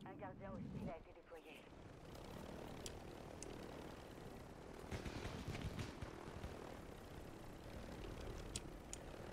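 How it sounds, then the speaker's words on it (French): Helicopter rotor and engine drone overhead in a Call of Duty match near a prison rooftop, a steady wash beneath gunfire and game effects, with players talking over it. "Ah oui, je vois l'hélico là-haut."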